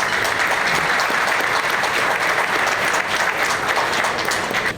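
A large audience at an NYPD Muslim officers' scholarship event applauds in a dense, sustained wash of clapping, loud and steady for the whole stretch without letting up.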